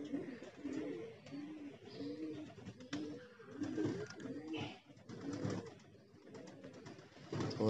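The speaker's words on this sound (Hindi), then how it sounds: "तो दोस्तों ये कबूतर आ रहे हैं नीचे" Several pigeons coo in low, rounded, repeated calls close by, overlapping in a steady murmur, with occasional soft rustles and a brief flutter.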